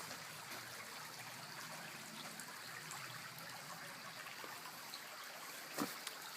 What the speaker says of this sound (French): La fraîcheur et le bruit de l'eau.